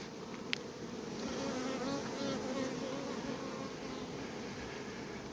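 A drone honeybee buzzes steadily as it flies out of a beehive, a continuous close insect drone with no talk.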